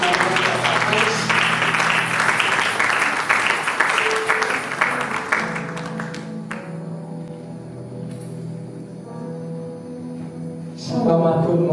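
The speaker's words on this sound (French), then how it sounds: "est-ce qu'on peut acclamer le Seigneur pendant que maman s'approche?" A church conference audience claps loudly and steadily for about six seconds, the applause then fading as a voice speaks over a quieter room, before a brief new burst of clapping near the end.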